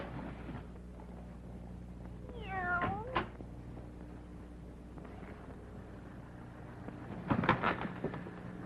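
A black cat gives a single drawn-out meow with a wavering pitch, faint and somewhat distant over a low hum, followed later by a brief burst of other noise.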